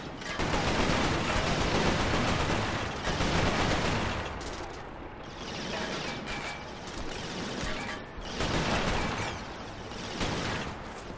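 Rapid automatic weapon fire in the shooter game Resistance, dense sustained bursts loud and close, with brief lulls between volleys and no talking.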